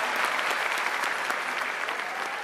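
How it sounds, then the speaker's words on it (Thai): Studio audience applauding a Thai dog and its elderly trainer: a full, even burst of clapping that holds steady throughout, with faint voices mixed underneath. "หนูปรบมือให้ทั้งคู่ทั้งคนและสุนัขครับ"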